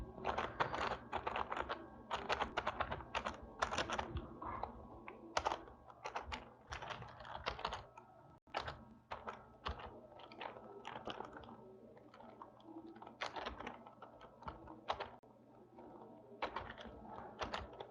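Python code being typed on a computer keyboard, a close, busy patter of key clicks in quick bursts with brief pauses, heard alone without talk.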